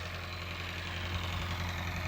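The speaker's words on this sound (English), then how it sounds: "He uses a tractor on their allotment." A tractor engine runs on an allotment with a steady, low, rumbling idle that holds evenly throughout, fairly close and with no voices over it.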